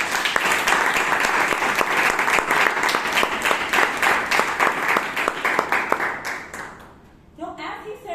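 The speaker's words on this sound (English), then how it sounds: "Can we have a big round of applause for him?" An audience claps at a Toastmasters club meeting in Bangalore, with loud, dense applause that thins out and fades near the end as a voice starts speaking.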